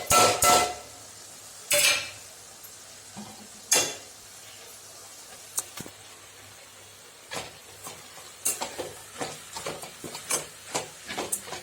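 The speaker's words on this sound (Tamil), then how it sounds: "இப்போ வேர்க்கடலை பொடியும் தேங்காயும் போட்டு கிளறி விட்டு ஆஃப் பண்ணிக்கலாங்க" Drumstick leaves (murungai keerai) being stir-fried with peanut powder and grated coconut, stirred in a pan: a few sharp scrapes near the start, then a scatter of lighter stirring clinks and a soft, steady sizzle, with no voices.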